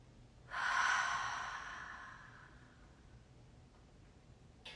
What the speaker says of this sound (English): let's just take one breath together in our caves.